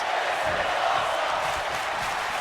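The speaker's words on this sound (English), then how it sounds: "Crowd are tuned up for this match." A wrestling crowd at a DCW show gives a constant loud roar of cheering and noise, unbroken from start to finish.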